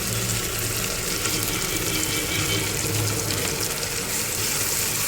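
Rohu fish masala with ginger paste and tomato cooks in a pan, giving a dense, loud, continuous sizzling hiss with a wet, bubbling texture and a steady level throughout.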